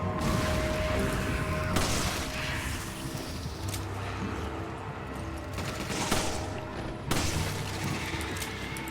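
Beretta pistol gunfire in the video game Resident Evil 5, a dense series of sharp shots and impacts over continuous game background noise, with a few louder cracks standing out.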